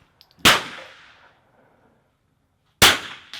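Rifle shot at an outdoor NRL22 rimrock match with a steel target ringing on impact: two sharp loud cracks a couple of seconds apart, each decaying in a brief metallic ring.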